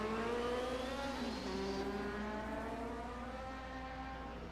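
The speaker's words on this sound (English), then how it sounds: "Downshifting for the final corner." A 1978 DRM race car at the Mainz-Finthen airfield circuit downshifts into the final corner, its engine note stepping down through gears in a loud, continuous onboard roar with no talk.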